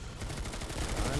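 Brief, dense rattle of gunfire at mines in Planetside 2, a continuous loud burst of rapid shots filling the short moment.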